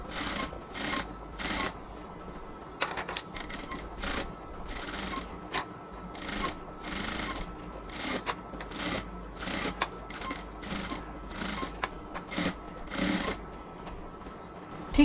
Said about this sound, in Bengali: ঠিক আস্তে আস্তে ধরে ধরে পুরো গলাটাকেই হচ্ছে আমরা সেলাই করে নিচ্ছি।